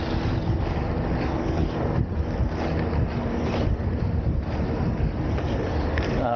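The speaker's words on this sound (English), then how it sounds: "Crosswind there, headwind here." Strong crosswind and headwind buffeting the microphone while inline skating outdoors near sand, a loud, continuous low rumble of wind noise with no talk.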